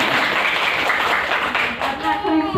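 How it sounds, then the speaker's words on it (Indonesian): An audience at a kindergarten parenting seminar claps for a father in attendance, with steady, fairly loud applause running under a speaking voice throughout. "Kita berikan tepuk tangan"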